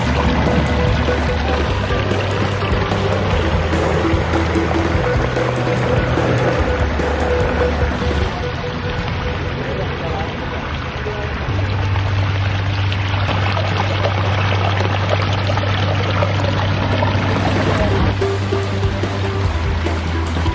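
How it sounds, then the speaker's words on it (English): Water pours steadily over the spillway of a pondless waterfall, a loud, continuous close-up rush and splash that never lets up. "you can have a beautiful pondless waterfall just like this"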